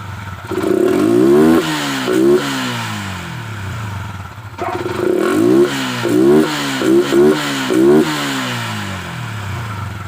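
A motorcycle engine with a clogged air filter and a dirty fuel-injected throttle body starts up and revs several times, rising and falling in pitch with sharp accelerations, loud and close, with a short pause between bursts.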